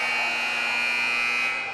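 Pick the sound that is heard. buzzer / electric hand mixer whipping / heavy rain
buzzer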